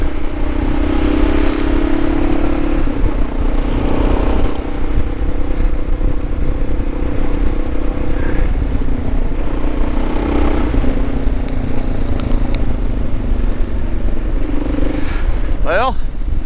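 A 2018 Kawasaki KLR650 motorcycle on the ride to work, its engine droning loudly and steadily under wind rush with shifting revs, a brief chirp-like squeal near the end.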